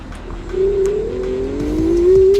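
A Dualtron Mini electric scooter, speed-limited, accelerates with a rising whine that climbs steadily in pitch and grows louder, close and alone over a soft road rumble.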